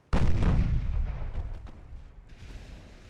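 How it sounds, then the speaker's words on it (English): A battleship's main guns fire a salvo of shells in the naval game Ultimate Admiral: Dreadnoughts, one loud, close boom with a long rumbling decay and a few faint cracks trailing off. "Yeah, I'm firing out 6 shells."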